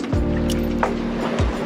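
Water sloshes and rushes around the hull of a small sailboat running downwind with the waves behind it: a close, steady wash with a couple of brief surges.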